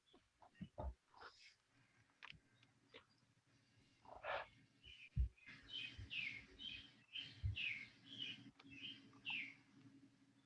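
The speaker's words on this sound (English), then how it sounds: "you can hear the birds" Birds chirping outdoors in short high tweets and trills, scattered at first and then in a quicker repeated run, over quiet background with a few low bumps.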